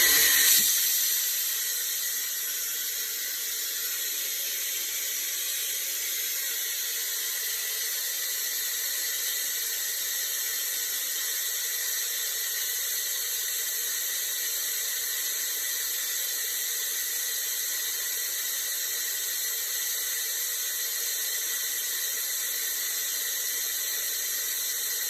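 Compressed air forcing water out of a camper toilet during winterizing on a Coleman 17b, a loud continuous broadband hiss and rush holding steady throughout after a brief stronger start.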